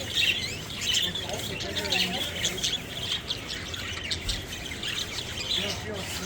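Birds in an exhibit at the Wayne County Fair in Palmyra, New York, give repeated squawks and chirps against a steady fairground crowd din, with a person talking nearby.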